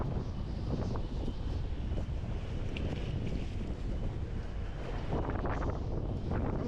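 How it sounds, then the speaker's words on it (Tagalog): Strong northeast monsoon wind buffets the microphone in a constant low roar, with the wash of waves underneath and no voices. "matindi yung hangin dito"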